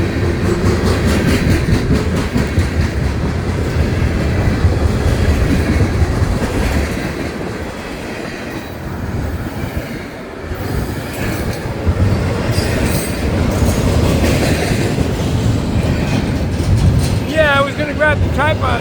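A freight train passes on railroad tracks, a loud continuous rumble with rhythmic clickety-clack of wheels over rail joints and intermittent wheel squeal, easing briefly in the middle before building again.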